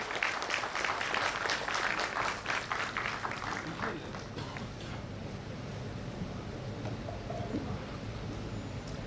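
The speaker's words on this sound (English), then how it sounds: "Let us hear a huge round of applause for Sanjay Das." Applause for Sanjay Das, a secretary giving a welcome address at a women's convention, rises as a broad crowd clapping in the first few seconds, then thins into a steady hall murmur.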